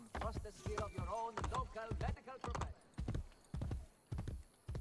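Horse hooves clip-clopping in the video game Assassin's Creed Brotherhood, a loud close run of rhythmic hoofbeats with a voice talking over part of it.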